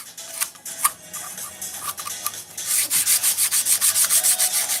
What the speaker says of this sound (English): I'm going to go ahead and sand this with a little bit of